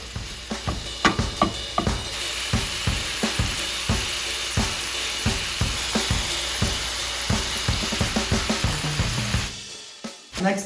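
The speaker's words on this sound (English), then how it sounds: "I'm just gonna add my beef." Beef fries in preheated olive oil in a pan over medium heat, with a bright, steady sizzle punctuated by rhythmic, repeated spatula strikes and scrapes throughout. The sound is close, with no talking.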